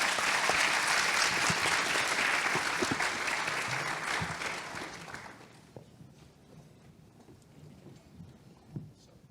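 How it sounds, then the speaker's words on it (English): An audience at a conference forum gives its panelists a round of applause, dense clapping for about five seconds that then fades out, leaving a quiet room with faint scattered noises. "please give our panelists a round of applause"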